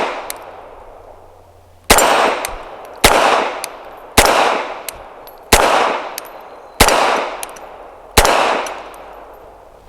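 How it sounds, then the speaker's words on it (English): Seven sharp, loud shots from a Bersa TPR 380 pistol firing PMC Bronze ammunition, fired at a steady pace about one per second, each crack ringing and decaying before the next, with no talking. "I'm going to start in double action. I'm using that same PMC bronze."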